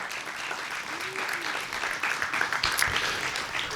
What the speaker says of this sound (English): So please give a warm round of applause for all of the poets that came out today.